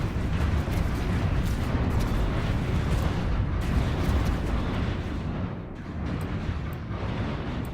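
Fleet cannons fire in a space battle in the strategy game Stellaris, giving a continuous, dense roar of booming blasts and rumbling explosions with no pauses.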